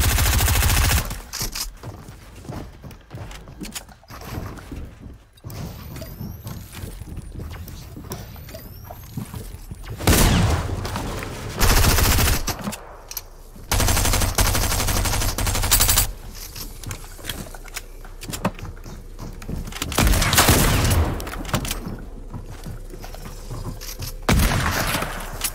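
Rapid SMG gunfire in a video game, repeated dense bursts of automatic shots with mechanical clatter between, loud and close.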